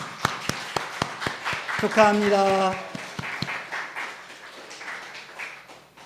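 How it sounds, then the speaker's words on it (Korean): Welcoming applause from a church congregation after a baptism during a Sunday service, with scattered claps under a voice speaking briefly, fairly faint and fading out. "환영의 박수."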